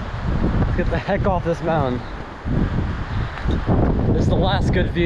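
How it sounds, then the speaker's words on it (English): Strong wind buffets the microphone on an exposed Appalachian Trail ridge near Tinker Cliffs in Catawba, Virginia, a loud rushing roar that persists while people talk over it. "It's so windy."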